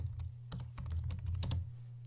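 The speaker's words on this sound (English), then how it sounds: "you can click that and then type the space bar and continue typing" Keys on a Mac computer keyboard click in quick, uneven bursts of typing, with the space bar pressed among them, close and fairly soft over a low hum.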